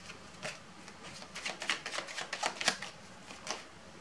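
Tarot cards are shuffled by hand in a quiet room, a series of soft riffling bursts and light papery slaps in an uneven rhythm, close and fairly faint, with no talking.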